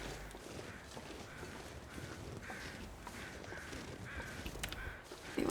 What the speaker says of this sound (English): It sounds like there are some crows crowing at something.